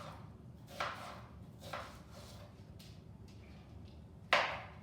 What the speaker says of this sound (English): And then I'm going to slice into half rings